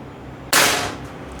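A single shot from a Pasopati PCP air rifle fired during velocity testing: one sharp, loud crack that bursts in suddenly and fades over a short tail, with nothing else around it.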